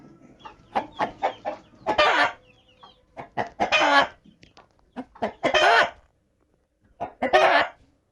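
Rooster and hens clucking in a backyard flock, with repeated loud bursts of calling and clucking in irregular clusters, close by with short quiet gaps between, no talk.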